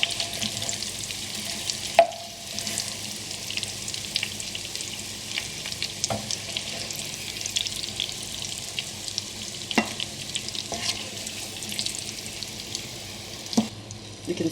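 Boiled eggs fry in hot oil in a pan for an egg curry, producing a steady close crackling sizzle that runs the whole time, broken by a few soft knocks as they are turned.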